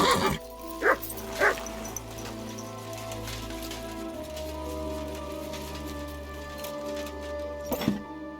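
Mutt, a dog in the video game Kingdom Come Deliverance 2, gives a few sharp barks near the start and again near the end, heard over steady rain and a low ambient drone.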